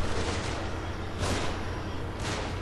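Sniper rifle shots in the horror game The Evil Within, three muffled booms spaced about a second apart over a dense, rumbling background.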